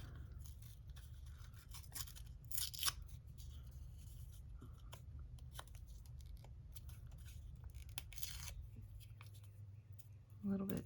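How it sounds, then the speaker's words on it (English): Patterned paper is torn in several short, dry rips close by, spaced across quiet background hum with soft rustling. "I'm just gonna tear a little bit off"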